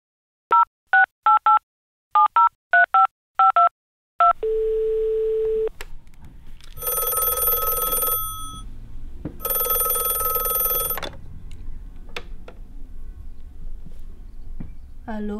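A telephone number is dialed in a quick series of touch-tone beeps, followed by a steady line tone and then two long bursts of a phone ringing.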